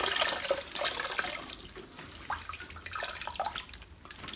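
Running water from a tap splashing steadily over a batch of natural virgin hair being washed in a sink, a close, continuous wet rush with small drips and sloshes, no talking.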